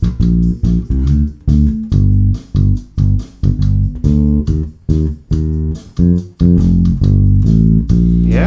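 A Motown-style bass line plays on electric bass guitar over a slow backing track, punchy plucked low notes in a bouncing, repeating pattern with short gaps between phrases.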